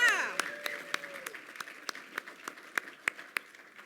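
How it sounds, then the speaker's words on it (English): An audience at a Metro Vancouver economic forum gives applause for event sponsors, beginning with a brief talking voice and then settling into sparse, scattered claps that thin out and fade. "Now we need way more enthusiastic applause for our sponsors."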